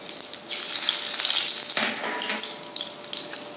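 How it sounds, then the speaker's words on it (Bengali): Bay leaf, cinnamon and whole cumin hit hot oil, bursting into a loud close sizzle that crackles and spits for a few seconds, then settles into a softer, uneven fizz. "ফোড়ন দিয়ে দেবো প্রথমে তেজপাতা, দারচিনি আর গোটা জিরে।"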